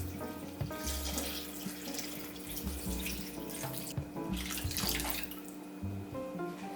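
Water poured into a crock pot to cover beef stew ingredients, a steady running, splashing flow with gurgling close by, continuous for several seconds with no talk.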